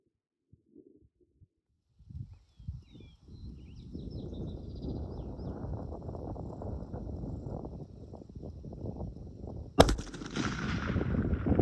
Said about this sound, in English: we're going to put a round down, and we're going to see if we can make one shot and one kill